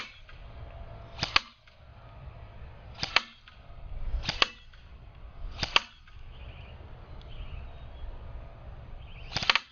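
Classic Army LWRC M6 airsoft rifle firing at a target 50 feet away: five distinct, sharp cracks spaced a second or more apart, close and loud, with quiet outdoor ambience and faint birdsong between shots.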